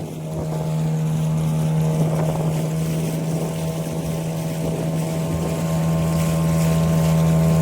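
A boat moving along a river through a mangrove forest, with a steady low motor drone and a constant hum, plus wind buffeting the microphone, close and continuous with no talking.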